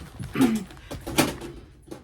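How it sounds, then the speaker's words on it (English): Dogs play indoors with yips and whimpers plus scuffling bumps, including a thud like a tin being knocked over, fairly close with a few irregular bursts. "Oh dear, the dogs are playing. And they just knocked a Scotty dog tin over."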